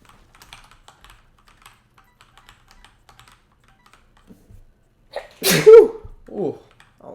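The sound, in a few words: sneeze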